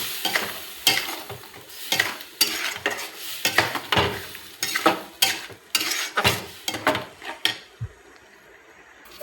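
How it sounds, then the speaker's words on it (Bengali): Peas and masala spice paste being stirred in a frying pan, a run of close scraping, clattering strokes at an irregular beat over a soft sizzle, with no voices. "এটা দেওয়ার পরে কিছু সময় হালকা নাড়াচাড়া করব।"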